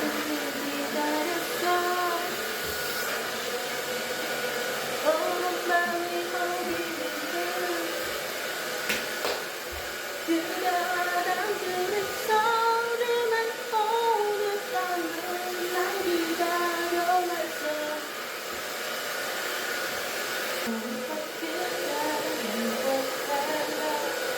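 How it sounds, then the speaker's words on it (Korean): A hair dryer blows a steady, continuous airy whoosh while drying a freshly cut short bob, holding at an even loudness throughout with slight fluctuations as it is moved around the head. "그리고 드라이기로 말린다"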